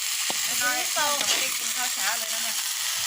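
Spicy crocodile stir-fried with holy basil in a pan gives a loud, continuous sizzle and hiss, with a voice talking over it throughout.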